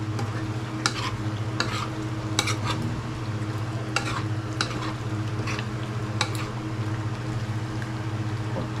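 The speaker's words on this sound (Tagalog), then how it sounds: "Siyempre, haluin natin yan." Vegetables being stirred in a frying pan with curry powder, a steady sizzle running underneath as a utensil scrapes and clacks against the pan in irregular strokes, fairly close and quiet.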